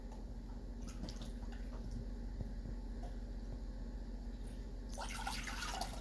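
A cup of water poured into a mix of vinegar for rinsing tomatoes, a steady faint trickle and drip running throughout, with a brighter splashy stretch near the end.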